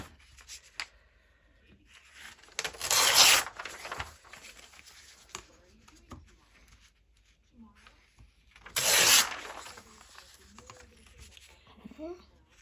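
Paper for a Christmas junk journal is torn by hand along its edges, two distinct ripping bursts several seconds apart amid quiet handling rustles.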